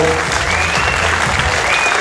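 Audience applause fills a Zumba class session in Azkoitia, 2020, a dense steady wash of clapping with music faintly underneath.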